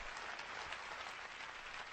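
An audience applauds during a performance, a dense, even wash of many hands clapping at a distance, steady and unbroken from start to end with no voices on top.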